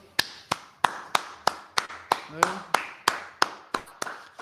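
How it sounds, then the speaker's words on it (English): An audience clapping in slow unison, about a dozen sharp, evenly spaced claps in a steady rhythm, fairly close and clear with a brief voice in the middle. "All right, everybody clap up."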